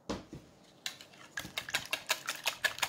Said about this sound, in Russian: Все это тщательно перемешиваем.